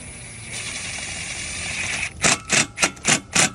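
Inch-long screws are driven into a deck rail post in a short row of five rhythmic whirring bursts from a power driver, coming after a steady hum from the driver, close and alone with no talk.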